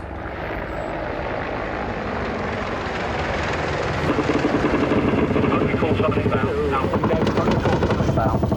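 Apache attack helicopter flying overhead, a steady loud rotor and engine roar that swells and thickens midway into a pulsing chop, with no clear voices over it.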